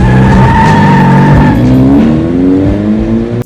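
A car's tires squeal loudly in a long skid as the red car pulls up, the whine sliding downward in pitch over engine noise, close and alone.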